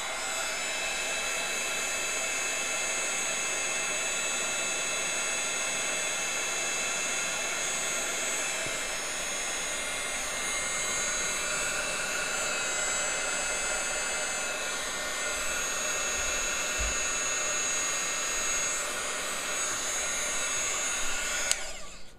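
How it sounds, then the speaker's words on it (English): Embossing heat tool blowing hot air over embossing powder on a handmade Ariel birthday card, a steady loud whooshing roar held for the whole span with no gaps. "get my embossing tool out, my embossing heat tool, and just quickly emboss it"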